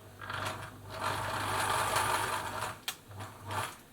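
A Singer 760 sewing machine whirs and rattles steadily up close, with a low motor hum and mechanical clicks, briefly slowing near the end.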